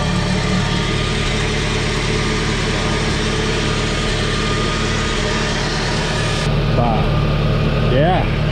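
A Farmall Super C tractor engine idles steadily just after its first start, a continuous close low rumble throughout with brief voices toward the end.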